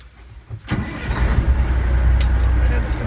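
A Peterbilt 359 truck engine cranks briefly after a sharp click, then catches and settles into a loud, steady low rumble, close by.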